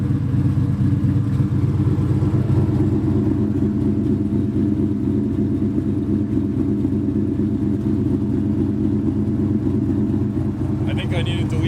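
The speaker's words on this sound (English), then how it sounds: "Todd Warren cam really chopping away." Turbocharged 2.0-litre two-valve car engine idling with a choppy cam, a steady low rumble with a loping pulse throughout, close and loud, with no talk.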